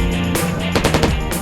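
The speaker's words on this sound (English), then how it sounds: "On the GPMG, General Purpose Machine Gun. Capable of 200 rounds per minute." A General Purpose Machine Gun fires during target practice in Afghanistan, with loud close bursts of rapid shots separated by brief pauses.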